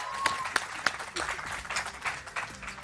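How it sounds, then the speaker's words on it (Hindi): Studio audience clapping for a guest on a morning TV show, a burst of applause with sharp individual claps standing out, under a host's voice. "जोरदार तालियां डॉक्टर बिल्किस के लिए"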